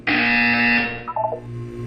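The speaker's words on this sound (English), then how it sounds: "You will hear a buzzer." A Portal 2 test chamber buzzer sounds as one loud, steady electronic buzz lasting almost a second, followed by a softer, fluttering tonal tail and quiet background hum.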